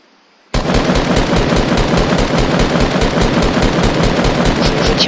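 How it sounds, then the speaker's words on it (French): Sustained rapid automatic gunfire in the Fortnite video game, starting abruptly after a short quiet moment, then continuing as a loud, evenly spaced burst of shots. "Je tire au hasard."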